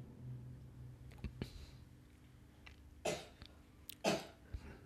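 Two distinct coughs a second apart break a quiet meditation sermon, with a few faint clicks and rustles in between.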